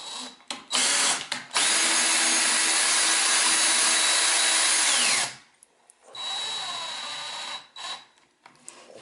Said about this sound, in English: You can chuck the drill onto the end again.